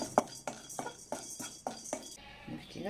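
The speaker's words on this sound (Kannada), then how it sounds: "4 ಒಣಮೆಣಸಿನ್ಕಾಯಿ ಹಾಕ್ಕೊಂಡು ಹುರಿತಾ ಇದ್ದೀನಿ." Dry red chillies and chana dal dry roasting in a steel kadai, with a spoon repeatedly scraping and clinking against the metal in a steady stirring rhythm, close up.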